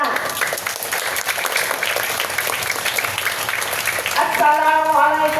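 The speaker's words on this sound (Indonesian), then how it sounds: "Tepuk tangan." Schoolchildren at a primary school morning event clap their hands together in a busy, bright, steady round. A voice starts speaking over the last second as the clapping carries on.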